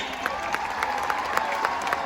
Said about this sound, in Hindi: भाई तालियां रुकनी नहीं चाहिए।